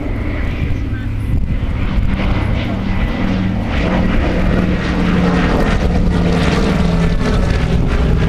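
A Canadian-built 1944 Consolidated PBY Catalina flying boat, a former fire bomber, drones past at the Duxford airshow, a steady loud piston-engine roar filling the whole stretch while an announcer talks over it.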